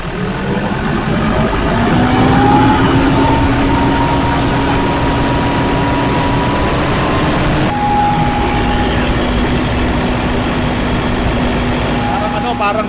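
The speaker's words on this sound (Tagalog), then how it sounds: "Pakinggan natin yung ingay ng turbo" An SUV's turbo gives a rising whistle that climbs and holds over its rumbling, revving engine, nearby and steady, easing and returning later.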